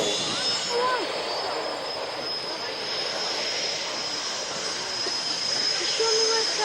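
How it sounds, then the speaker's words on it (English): Jet aircraft making a short landing with air brakes and speed brakes deployed at an airshow, a loud continuous broadband roar with a high whine, steady throughout, with a commentator's voice faintly over it. "short landing, you can see the air brake really at the rear and the speed brakes"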